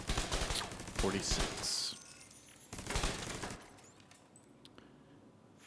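A deployable turret in The Division 2 fires rapid bursts of automatic gunshots in two clusters, with sharp impact cracks between them, under a player's voice speaking briefly.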